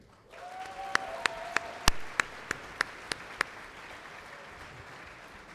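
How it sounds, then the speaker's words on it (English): A crowd applauds an award recipient at a conference plenary session, a steady wash of clapping with a series of sharp, evenly spaced loud claps or clicks standing out near the microphone. "Let's have another round of applause for our Impact awardee this year."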